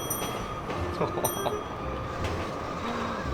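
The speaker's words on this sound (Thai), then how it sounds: "โอ้อันนี้ไม่จอดสักสถานีนะครับรถไฟซิ่งมากฮนะ" Speeding train in a modded GTA V game, a steady loud rumble of rolling wagons with faint wheel squeal and clatter running continuously throughout.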